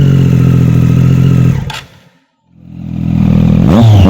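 A Triumph Daytona 675R three-cylinder motorcycle revs hard up close, drops to a brief silence, then climbs back into a loud, raspy rev.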